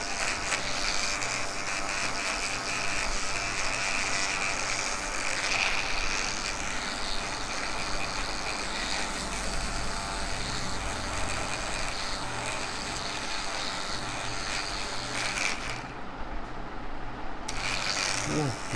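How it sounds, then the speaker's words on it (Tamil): Electric hair clipper running continuously during a low fade haircut, giving a steady, rough grinder-like buzz with rasping mechanical texture that stays close and loud throughout. "மிஷின் தான், சவுண்டு மட்டும் கிரைண்டர் சவுண்டு கேட்குதுங்க"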